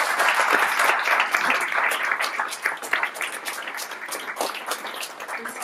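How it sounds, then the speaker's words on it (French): Applause from an audience at a French business breakfast on mobile marketing, honoring four panel speakers. Dense, steady clapping fills the room, then thins slightly and becomes more scattered toward the end. "On peut les applaudir."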